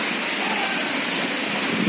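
Constant broadband roar of heavy rain falling, close and unbroken for the whole moment, no voices.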